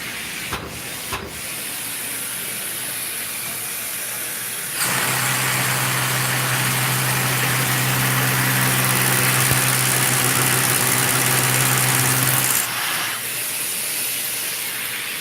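Milwaukee drill fitted with an 18-inch extension and a vacuum drill bit bores into a ceiling, a steady whining motor drone with dust-extraction hiss lasting several seconds, starting and stopping abruptly, with no talk.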